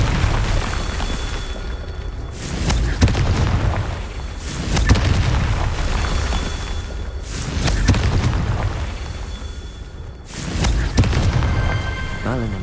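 A Confringo fire spell bursts in Hogwarts Legacy, landing as a string of heavy booming explosions about every two to three seconds, loud and close, each blast rolling off into a rumbling tail.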